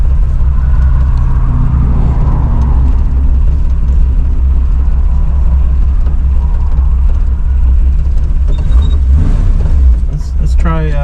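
Steady low rumble of a 1966 Ford Mustang engine idling and pulling gently, loud and continuous throughout, with a brief rise near the end.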